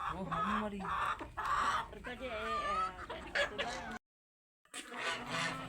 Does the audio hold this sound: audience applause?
no